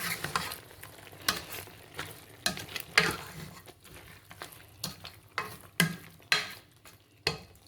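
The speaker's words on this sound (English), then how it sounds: "So right now I have to stir it together." A spoon stirs carrots into rice frying with beef sauce in a pan, giving repeated scraping strokes every half second or so over a soft sizzle, close and clear with no talking.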